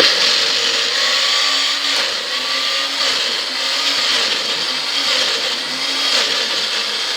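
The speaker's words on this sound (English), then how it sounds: "what we've got here is a blender that I've hopefully plugged in, and I'm going to blend this tofu" A blender whirs steadily as it purees tofu, a loud continuous motor drone with slight pitch wobbles running the whole time, close and without speech.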